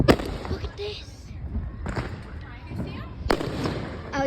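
Fireworks burst close by, sharp and loud, with several distinct booms spaced a second or so apart and crackling tails between them.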